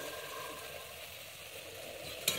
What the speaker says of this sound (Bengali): দিয়ে আমি আবারও ভালোভাবে কষিয়ে নিচ্ছি